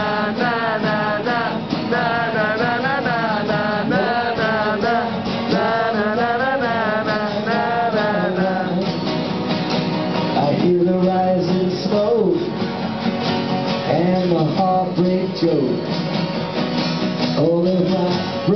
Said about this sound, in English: I got one guitar. And it sounds like this.